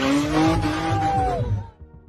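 An out-of-control car skids with a loud, sustained tire squeal and roaring engine for about a second and a half, then fades abruptly into low rumbling, with no voices.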